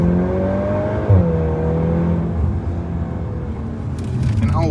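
A Volkswagen Golf R Mk8 on a public road accelerates hard, its engine note rising in loud, close sweeps with a brief dip at a quick gearshift before climbing again.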